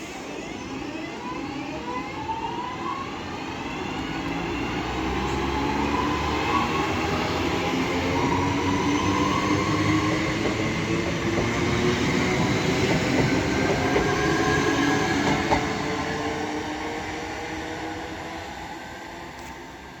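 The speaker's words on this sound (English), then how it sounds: "So now departing is the 1421 Northern service from Crewe to Manchester Piccadilly." A Northern passenger service pulls out of Cheadle Hulme station on its way from Crewe to Manchester Piccadilly, the rumble and wheel noise swelling as it passes close by and then easing off, with a faint rhythmic clatter running underneath.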